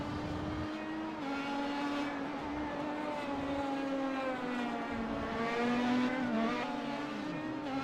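Race cars from a Pro Mazda Championship racing game at Interlagos drone steadily, with layered engine tones rising and falling as they pass, loud and continuous with no talking.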